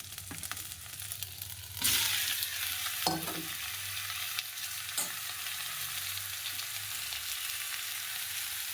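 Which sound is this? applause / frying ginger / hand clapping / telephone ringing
frying ginger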